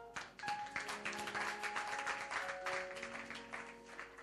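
A church congregation in Lomé, Togo, applauding, a soft, dense patter of clapping with sustained tones behind it, fairly distant.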